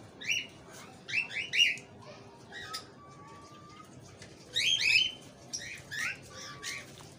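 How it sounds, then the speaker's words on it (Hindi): Bursts of chirping calls from a pet parrot in a cage, fairly faint, in two clusters separated by a quieter stretch, with no speech. "और इधर से देखते कौन तोता बोल रहा है।"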